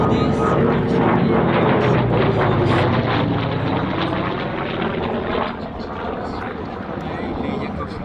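A Yakovlev Yak-11, a post-war propeller aircraft, drones steadily at an air display in Gap-Tallard, its engine roaring continuously with wind noise and faint talk mixed in.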